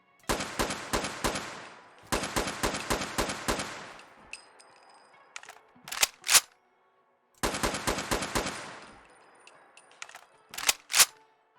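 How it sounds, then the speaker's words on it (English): SKS rifle in Fallout 4: two rapid strings of sharp, loud gunshots, each followed by metallic clicks and clacks of reloading with a stripper clip, then the pattern repeats. "First of all, let's talk about shooting and reloading."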